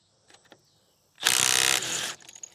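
Milwaukee M12 Fuel subcompact impact wrench on power mode 3 hammering out a 22mm Subaru crank bolt, a few faint clicks and then about one second of loud, dense, rattling impact bursts close by.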